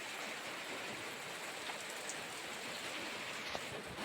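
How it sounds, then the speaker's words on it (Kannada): Heavy rain pours down steadily at a rural home with water running everywhere, a dense, even hiss with occasional nearby drips, close and continuous with no talking. "ನೀರೆಲ್ಲ ಹರಿತಾ ಇದೆ, ಫುಲ್ ಜೋರಿದೆ ಮಳೆ."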